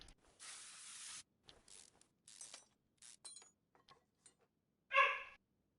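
Spray can hissing in Mechanic Simulator 21 on PS4: several short bursts of WD-40 spray separated by silence, followed by a sharper, louder burst near the end, with no talking.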